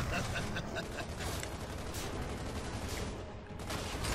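Gunfire in the video game Gears of War 3 rattles as dense, continuous bursts of shots with booming impacts, loud and unbroken throughout the whole stretch.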